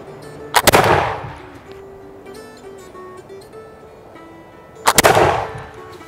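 Two loud smoothbore musket shots fired on a range, each a sharp blast with a ringing tail, about four seconds apart, with a low background hum between them.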